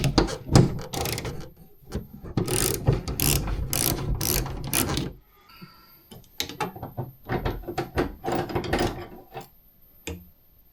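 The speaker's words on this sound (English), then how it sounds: "So we can get the socket onto this nut here." Socket ratchet clicking in quick bursts while loosening nuts on a Subaru hatch door panel, close and loud, with busy metallic rattles and short pauses between strokes.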